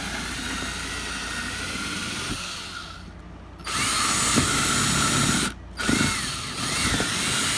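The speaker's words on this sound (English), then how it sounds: "Now all my tubs are drilled." A power drill whines through plastic shoebox tubs in bursts, high buzzing runs broken by short pauses as the bit spins up again, close and loud.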